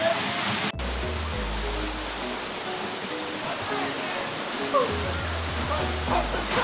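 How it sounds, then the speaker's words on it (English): Toraille Waterfall in Saint Lucia, a steady broadband rush of falling water heard close by, with voices and low rumbling noises mixed in over it. "We've come to Toraille Waterfall"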